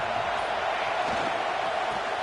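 Steady stadium crowd roar from a college football video game, Miami Hurricanes home atmosphere, a broad continuous wash of cheering that holds at an even level throughout without breaks.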